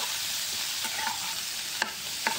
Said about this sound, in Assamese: এতিয়া মই ইয়াতে হালধি পাউডাৰ অকণমান দি দিম। এইখিনি অকণমান সময় লৰাই লৈছোঁ।